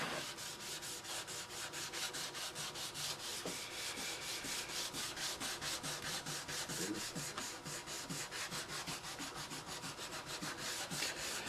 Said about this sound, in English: we'll literally just be dipping our rag in there and rubbing it on.